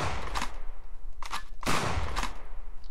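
Gunfire in the video game Superhook, with several loud bursts of shots in an irregular rhythm over a busy, steady game background.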